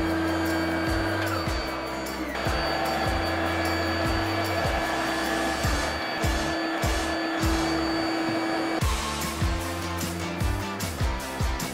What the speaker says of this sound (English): turn the vacuum on, minimize the dust